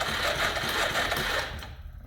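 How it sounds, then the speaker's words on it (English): Fuel pump on a 1985 Suzuki LT230 ATV running dry while the engine cranks, a fast rattling whir heard close for about two seconds before it cuts off. "that fuel pump's not sucking fuel"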